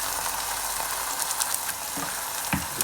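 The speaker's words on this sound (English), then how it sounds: "Now I have to give it a nice stir." Tempering for coconut curry leaf chutney being stirred in a pan, a steady soft sizzle with a few scraping spoon knocks near the end, close and fairly quiet.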